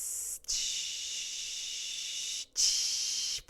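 Two long, forceful exhalations, breathy and hissing, close to the mic, taken during a standing quad stretch aimed at the area just above the knee, with a brief pause between them.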